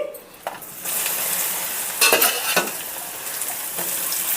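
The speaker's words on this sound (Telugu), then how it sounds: "ఇక్కడ ఆయిల్ అనేది హీట్ అయ్యింది ఇప్పుడు ఈ వెల్లుల్లిపాయని అన్నిటినీ కూడా వేసుకుని చక్కగా ఫ్రై చేసుకోవాలి" Garlic cloves fry in heated oil in a pan for a spicy curry-leaf powder; a loud, bright sizzle hisses continuously, with a couple of sharp bursts as pieces hit the oil and metallic clinks from stirring.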